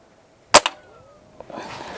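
Single pellet rifle air gun shot outdoors by a lonely highway, a sharp close crack with a quick tail and brief echo, followed by quiet ambience and a soft rustle.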